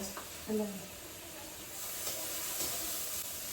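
Onions frying in a pan on a home stove for chicken curry and biryani, giving a steady close sizzling hiss throughout, with a brief voice near the start.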